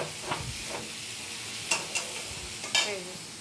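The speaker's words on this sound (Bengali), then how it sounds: "আলুর চোখার জন্য টমেটো আর পেঁয়াজটা কাঁচা লঙ্কাটা ভাজছি" Tomato, onion and green chilli frying in a pan for mashed potato, a low steady sizzle broken by several sharp scraping stirs of a spatula, close and without talk.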